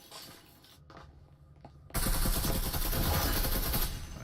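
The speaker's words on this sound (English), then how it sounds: "There's a nice wall bang shot coming in from Juice." Dense automatic gunfire shot through a wall in the VR shooter Breachers, a sparse quiet stretch giving way at about two seconds to a loud, sustained burst of rapid shots that runs to the end.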